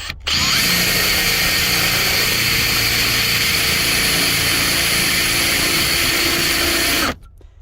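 A power drill whines loudly and continuously for about seven seconds, close by, drilling out a Honda or Acura ignition lock, then stops abruptly.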